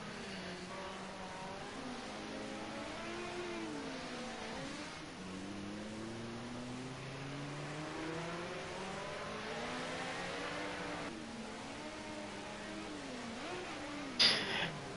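Touring cars in a Monaco street race video game, several engines revving and whining at once, rising and falling through gears as cars pass, with a brief louder burst near the end.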